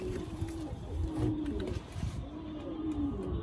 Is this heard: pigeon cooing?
yes